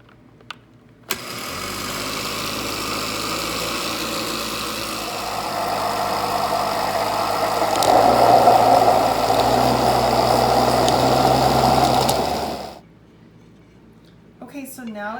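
A countertop blender runs on its liquefy setting while cupcake batter is made, starting abruptly, whirring steadily for about eleven seconds and rising in pitch midway before cutting off.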